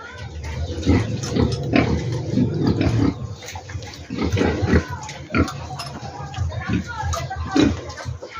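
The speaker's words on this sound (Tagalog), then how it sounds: "So ayan mga kasama, malaki na itong mga baboy ko eh." Large farm pigs grunting and snuffling up close, with irregular bursts of oinks and some watery splashing, while someone talks over them.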